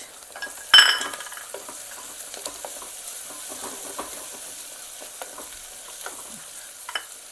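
Onion sautéing in a pan for pav bhaji, a soft steady sizzle with light stirring and faint utensil scrapes, one louder clatter near the start.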